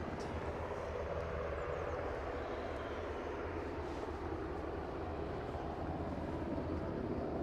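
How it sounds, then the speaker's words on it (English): A British Airways airliner lines up at the end of the runway at Aberdeen, its jet engines giving a steady, distant, broadband roar that holds even throughout. "British Airways lining up on the end of the runway."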